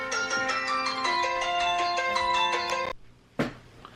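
A phone rings with a bright, repeating electronic melody for about three seconds, loud and close, then cuts off, followed by a short clunk or handling noise.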